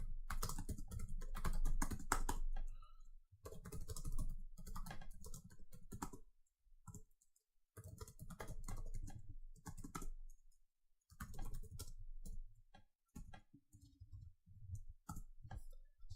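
C++ code is typed on a computer keyboard in quick close bursts of clicky keystrokes, broken by short pauses, with no talking.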